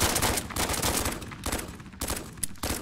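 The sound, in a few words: pump-action shotgun firing in video game Roblox BRM5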